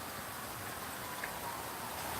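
Steady, soft hiss of rain falling during a summer pop-up storm in Southern Virginia, a constant wash of drops with no talking, faint and even throughout.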